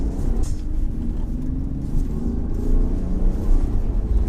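A 2020 Land Rover Defender works its way off-road, its engine a steady low rumble with sliding and crunching texture underneath, close and continuous with no talk.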